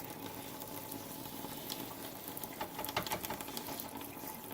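Warm water from a hose rinses dirty humidifier filters in a steady, even spray, with faint spattering bursts near the end and no talking.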